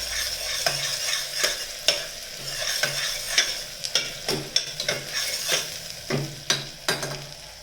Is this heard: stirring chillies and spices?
yes